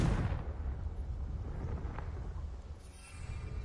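A Confringo blasting spell goes off in the Hogwarts Legacy video game, a loud booming explosion that bursts out at once and rumbles and fades over a few seconds.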